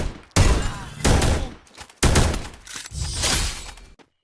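Bursts of video game gunfire crack out in several loud, close volleys separated by short pauses, ending a match with a headshot.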